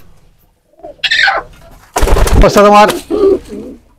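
Pigeons coo inside a pigeon house in short, loud, close bursts, one a strong throaty coo, while a person speaks briefly between them.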